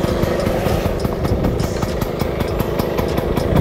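A Vespa VBA scooter engine fitted with a SIP Abarth exhaust idles steadily up close, its fast, even putter dense and loud throughout with no voices.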